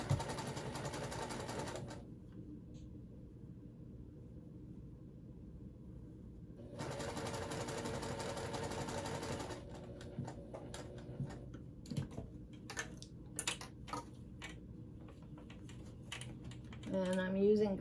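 A sewing machine stitches a bag lining with gray thread about a quarter inch from the edge, giving a fast, even mechanical whir in several bursts separated by quiet pauses and small clicks.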